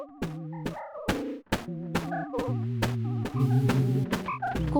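Two cartoon birds sing together in a duet, bright warbling chirps trading back and forth in quick repeated phrases, close and clear over a light musical backdrop.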